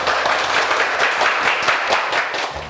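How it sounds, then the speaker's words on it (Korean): Loud, dense applause from a large audience at a corporate documentary event, steady clapping filling the whole stretch without a break. "박수 한번 크게 한번 칠까요?"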